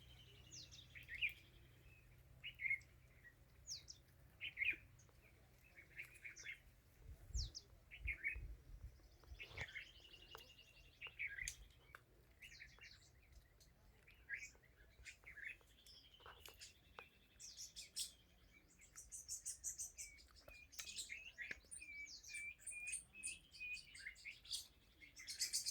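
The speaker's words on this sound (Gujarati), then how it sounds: "હાલો તો ઘડીક મૂંગા મોઢે પક્ષીઓનો અવાજ સાંભળવી" Birds chirp, tweet and call outdoors in rural countryside, with many short calls and trills close and far, scattered irregularly over a quiet background, with no talking.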